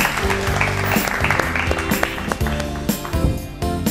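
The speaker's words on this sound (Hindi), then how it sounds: "जोरदार तालियां।" An audience claps for a correct quiz answer during a nutrition and malnutrition class event, irregular bursts of clapping mixed with background music and some voices.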